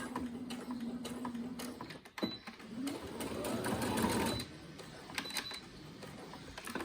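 A sewing machine runs in quick bursts of rapid stitching while sewing a fabric face mask, pausing briefly between runs, close and clear with a steady mechanical rattle.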